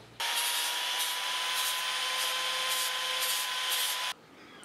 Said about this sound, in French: je vais mettre à nu l'écrou ici